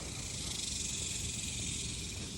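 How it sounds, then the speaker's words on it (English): Cicadas rattling on a North Texas summer day, a dense, continuous high buzzing drone that fills the air steadily and evenly throughout, moderately loud with no other sounds standing out. "They have like a rattling sound."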